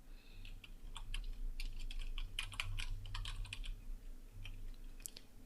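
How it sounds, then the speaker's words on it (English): Keys clatter on a computer keyboard in quick, irregular bursts of typing, close and fairly quiet over a low steady hum, with no talking. "Just go ahead and type in the text that you want."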